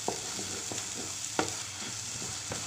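Beef brain fry being stirred after lemon juice goes in, a soft continuous sizzle under a series of light, irregular spoon taps and scrapes against the pan.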